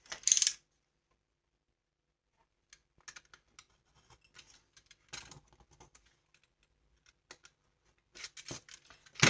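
Utility knife slicing through material in several short, crisp scraping strokes with quiet gaps between, close up and alone, with a louder burst at the start and end.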